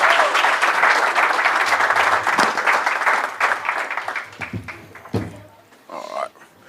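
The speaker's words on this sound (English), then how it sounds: "Give him a big round of applause." An audience applauds a speaker being introduced at a public talk, a loud crowd of clapping and cheering that gradually thins out into scattered claps and a few voices.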